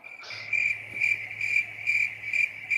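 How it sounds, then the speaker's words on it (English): Crickets chirping as a comedic sound effect, a steady high-pitched pulsing trill repeated in regular bursts over a faint low hum, clear and moderately quiet with no talking. "Can we get the crickets real quick for this?"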